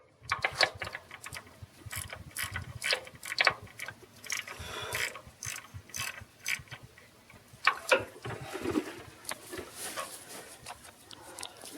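Ratchet turning a starter bolt on a 1998 Ford F150 with a 4.3 V6, giving continuous close clicking and metallic ticking in uneven bursts, with light clanks of tools throughout.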